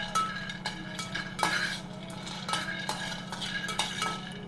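Peanuts dry-roasting in a pan, with a spoon stirring and scraping the metal in steady, repeated strokes over a low background hum, close and moderately loud.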